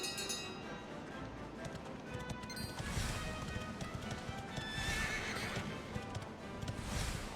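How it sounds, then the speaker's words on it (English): Horse galloping with rhythmic clip-clop hooves and repeated neighs from Dragon Quest 11, loud and continuous under background game music. "I completely forgot you can just like summon a horse"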